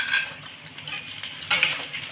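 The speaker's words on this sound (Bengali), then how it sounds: "ভালো করে আমি ফোড়নের সাথে মিশিয়ে নেব" Sliced ridge gourd is stirred into a chili tempering in a pan with a few scraping strokes of a utensil. A soft sizzle runs underneath, and a louder scrape comes near the end.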